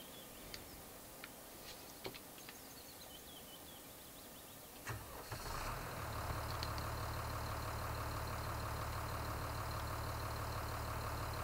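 An Ursus tractor in Farming Simulator 2013 starts up and settles into a steady idle, a constant low mechanical hum that holds alone after a few clicks and knocks.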